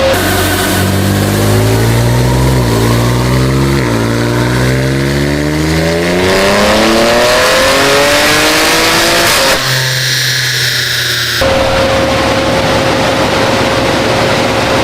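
A BMW G80 M3 with the S58 engine climbs through a long, loud full-throttle pull on a dyno, pitch sweeping upward across gears before it cuts off with a sharp break and settles to a whine and idle.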